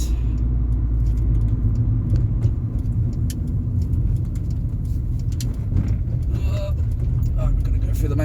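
A classic car rolls through a show gate with a steady low engine rumble and road noise from inside, and someone talks over the drive.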